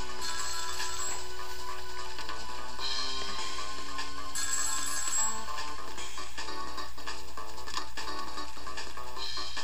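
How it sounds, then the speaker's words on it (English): Ringing telephone bell in the video game Ghost Trick: Phantom Detective, repeating bursts over continuous game music, no talk. "telephone."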